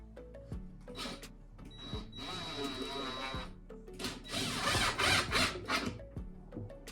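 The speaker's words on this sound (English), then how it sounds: "I think that's close enough for me to put some screws in her" Short whirring bursts of a power drill driving screws into a barn board desk, close and intermittent with brief pauses and a few clunks between runs.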